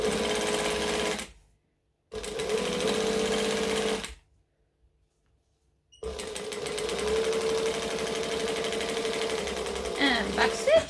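A sewing machine stitches fabric for a backpack in bursts, running about a second, pausing, running two more seconds, then after a silent gap stitching steadily for five seconds, close and clear.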